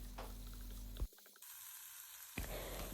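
Mixed vegetables and green peas sizzle softly in a pan for oats upma, with a spoon scraping and stirring through them. The frying hiss drops away briefly, then returns.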